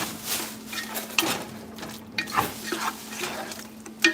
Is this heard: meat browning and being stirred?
yes